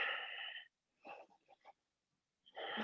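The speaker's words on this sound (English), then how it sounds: "keeping our breath for 5 breaths" Deep, slow breaths drawn in and released during a gentle yoga flow, close and audible, with an airy inhale, a few shorter broken breaths, then another long breath after a brief silence.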